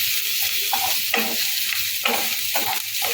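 Sliced vegetables for a veg quesadilla fry lightly in a pan, a steady sizzle broken by repeated scraping stirs roughly every half second to second.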